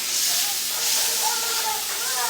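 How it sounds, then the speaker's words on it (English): Onions cooking in melted butter in a pot give off a steady, close hiss and sizzle that keeps up without a break for the whole stretch. "I'm just gonna saute that down real good."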